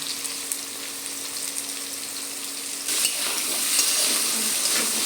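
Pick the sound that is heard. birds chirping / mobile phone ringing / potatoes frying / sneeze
potatoes frying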